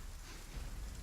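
A soft, steady hiss of rain plays as a sound effect during a tabletop game session, a faint broadband wash with no talk over it.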